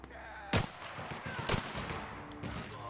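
Minigun fire in The Outer Worlds video game: two sharp broadband bursts stand out, one just after the half-second mark and one at about one and a half seconds, over a dense, busy bed of game noise and scattered smaller reports.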